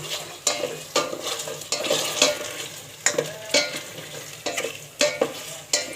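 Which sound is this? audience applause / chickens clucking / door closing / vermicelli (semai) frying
vermicelli (semai) frying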